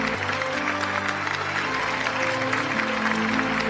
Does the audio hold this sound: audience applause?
yes